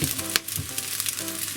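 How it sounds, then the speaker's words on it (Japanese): Garlic fried rice sizzling in a pan as soy sauce hits it, a soft, close, crackling fry with a brief sharp spatter near the start. "入れて、すぐには混ぜずにちょっと醤油が焦げたら、はい、混ぜ合わせます"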